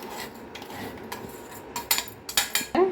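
A spoon stirs a ground chili, sugar and salt spice mix in a pan for a mango sweet: a quiet stretch, then a quick series of sharp metallic scrapes and clinks near the end.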